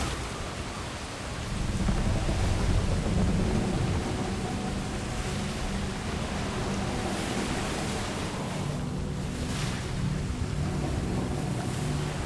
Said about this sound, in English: So that storm was really loud.